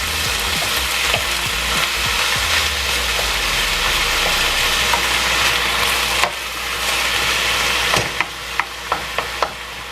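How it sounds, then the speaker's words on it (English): Spinach and BLT mac and cheese ingredients sizzle and crackle steadily in a hot pan as they are stirred, with a low hum beneath and a few sharp clicks and scrapes near the end. "Listen to that sizzle."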